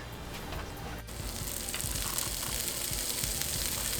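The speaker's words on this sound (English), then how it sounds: "Let's get started by frying our bacon." Steady, loud sizzling of bacon frying in a pan, a continuous crackle with small pops and no talking.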